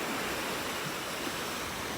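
Steady broadband wash of surf rolling onto a beach in North Naples, Florida, a continuous even roar with no distinct individual breaks, moderately loud and alone without voices.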